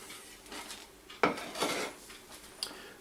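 Bay leaves and grated nutmeg go into a pan for a medieval recipe, giving a few light clattering knocks and scrapes of utensil against cookware, with one sharper clink midway and a faint tap near the end, fairly quiet.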